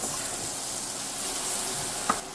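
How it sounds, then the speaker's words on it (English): Shallots sizzle steadily in a hot pan as they are stirred in, a soft continuous frying hiss with a brief clink near the end, no voices. "We're going to stir those in and let them get fragrant for about 1 minute."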